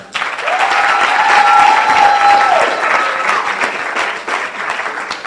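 Loud, sustained applause from a symposium audience, dense clapping that swells quickly and holds strong for several seconds, with a brief tone ringing through the middle and the clapping tapering slightly toward the end.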